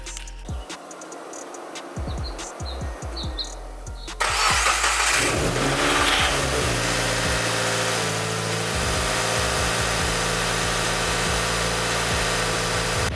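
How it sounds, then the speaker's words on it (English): A 2015+ Subaru WRX fitted with a new Perrin turbo inlet cranks over and fires up, a loud startup surge settling into a steady, even idle that runs on continuously. "we're going to start the car, and we're going to see if we have any air leaks"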